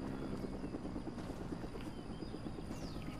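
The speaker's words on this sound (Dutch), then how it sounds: "Oh, een helikopter." A helicopter in a video game thrums with a rapid, steady rotor chop at moderate distance, continuing throughout with faint background game sounds.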